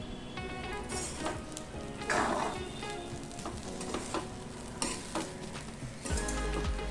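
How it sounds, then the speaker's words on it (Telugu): Chicken fried rice sizzles in a hot pan while being stirred: steady frying crackle broken by repeated scraping and tossing strokes, close and moderately loud, with no voices. "ఇప్పుడు మనం బాగా మిక్స్ చేసుకుందాం."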